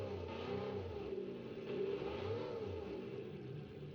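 A car engine in the BeamNG driving game revs continuously as the car drives on dirt, with a rising and falling mid-pitched drone that never stops. No one speaks.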